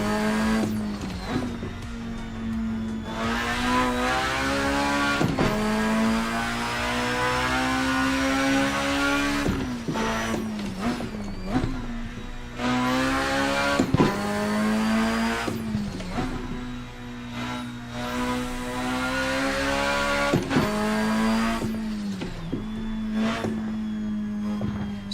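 A racing simulator car engine revs and shifts through gears again and again, loud and close, with rising whines cut by sharp drops, no talking.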